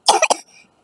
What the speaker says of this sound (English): they're coughing up something awful